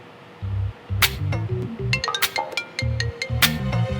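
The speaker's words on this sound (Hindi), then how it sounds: "बैंक वालों का फोन है" A phone ringtone from a bank's call, a bright electronic melody of short tonal notes in two bursts, close and fairly loud, with no talking.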